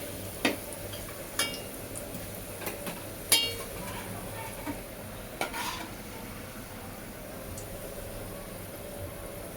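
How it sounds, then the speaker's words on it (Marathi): Onion frying in a pan for chicken curry, with a low continuous sizzle broken by several sharp scrapes and clinks of a spoon stirring against the metal. "कांदा भाजून घेतला आपण"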